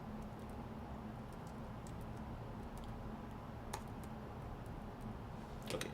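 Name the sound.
typing on a computer keyboard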